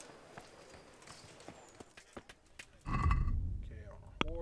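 Horse hooves clip-clop in the video game Kingdom Come: Deliverance, a run of distinct hoof strikes followed by a louder rumbling stretch with some snorting and a voice speaking.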